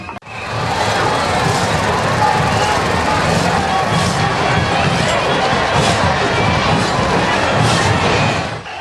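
Huge festival crowd at Bastar Dussehra in Jagdalpur, Chhattisgarh: a dense, steady outdoor roar of many voices and movement that stays loud and unbroken throughout.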